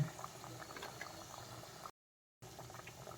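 Masala biscuits fry in oil in a kadai on low flame, giving a steady, close bubbling sizzle that breaks off into a short gap of silence before resuming.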